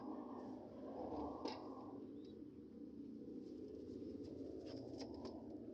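Pigeons cooing nearby, soft repeated throaty coos rolling over a low ambient rumble, with a few faint chirps and clicks scattered through.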